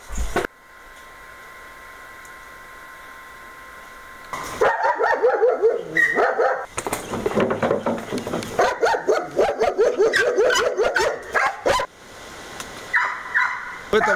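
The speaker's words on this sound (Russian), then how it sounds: "2 собаки-ветераны, чемпионы Украины в прошлом, Рут Росси, Алграф" Veteran show dogs, former Ukrainian champions, bark repeatedly in a kennel enclosure. After a quiet opening, a dense run of loud, close barks continues with only brief pauses.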